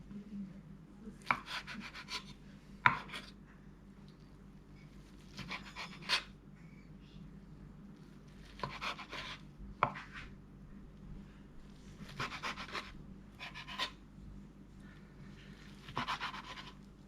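A knife cutting food on a board while preparing a broccoli egg salad: quiet clusters of short crisp strokes that come in small repeated groups with pauses between them, heard alone.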